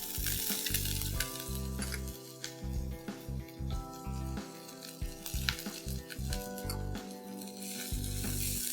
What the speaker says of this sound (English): I'm going to add in ginger and garlic paste